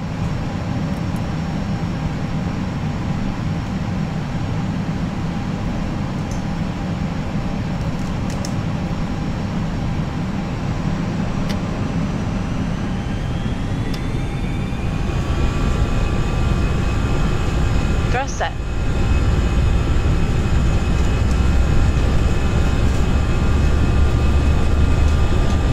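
An Airbus A319 in the FSLabs flight simulator makes its takeoff roll on runway 22 right at JFK. Engines hold a loud steady roar that builds as turbine whine climbs, with a sharp thump partway through.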